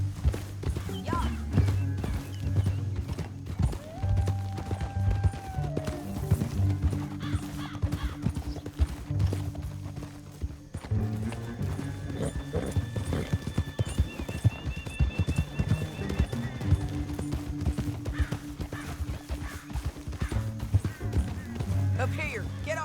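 Horses gallop through a canyon in the Red Dead Redemption 2 video game, their rapid hoofbeats drumming steadily over a rumbling score, with a whinny and speech heard along the way.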